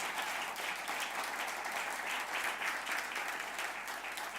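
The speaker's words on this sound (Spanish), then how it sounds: "Denle un buen aplauso nuevamente al Señor." A church congregation applauds steadily and continuously, a dense wash of many hands clapping at moderate distance with no break.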